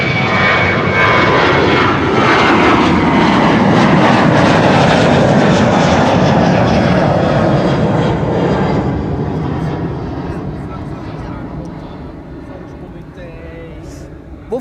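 A fixed-wing airliner takes off from runway 24 at Amsterdam Schiphol with a loud, broad engine roar that slowly fades as it climbs away, while a voice talks over it.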